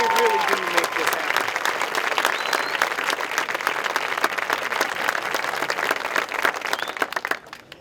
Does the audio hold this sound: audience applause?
yes